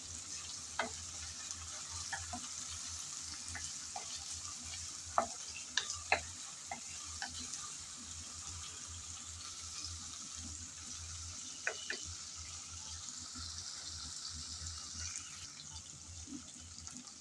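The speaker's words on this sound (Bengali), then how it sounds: "আদা রসুন এখন পেঁয়াজের সাথে আবারও নেড়ে চেড়ে হালকা করে ভেজে নেব" Ginger, garlic and onion are stir-fried in a pan with a steady low sizzle. Scattered clicks and scrapes of the spatula stirring the pan recur throughout.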